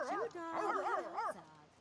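Dogs in the life-simulation game The Sims 3 whimper and yip in a short run of wavering, whiny barks, close and clear.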